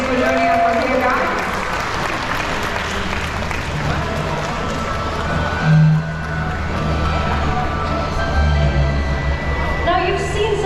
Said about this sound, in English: let's give our lovely owls, Latin and Soren, a warm round of applause